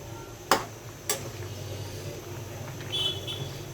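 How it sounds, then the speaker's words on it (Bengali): Carrots boil in a pot and get stirred for carrot barfi. A spoon clinks sharply against the pot twice, then a soft scraping stir follows over a low, steady simmering hum. "গাজরটা একটু নাড়াচাড়া করে দিচ্ছি।"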